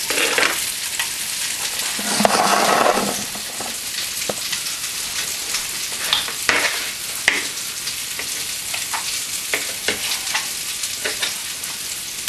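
Sausages frying in a pot on a stove, a steady dense sizzle with crackling pops scattered throughout, louder in a brief surge early on, with no talking.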